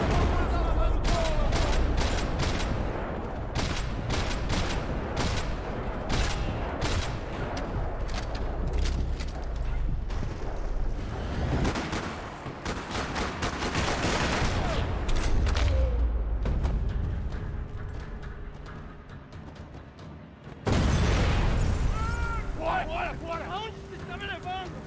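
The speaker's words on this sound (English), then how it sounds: "Another parking lot rattling with gunfire." Dense gunfire crackles through a parking lot in Max Payne 3, bursts of shots and impacts layered with game sound and background talk, continuous and loud with a brief drop near the end before resuming.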